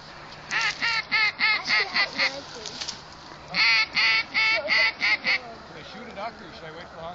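Ducks and geese on a South Dakota waterfowl hunt give loud, repeated honking quacks in two rhythmic bursts, close and prominent against outdoor background noise.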